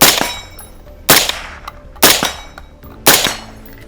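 Four sharp gunshots from a UAR-15 rifle fired about a second apart, each a loud crack with a short ringing decay, outdoors with no talking.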